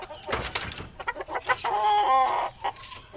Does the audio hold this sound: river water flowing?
no